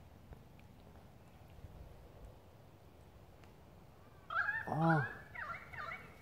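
A pied currawong gives a loud, clear, ringing call near the end, after a stretch of quiet outdoor background in a forest setting, with a brief spoken exclamation.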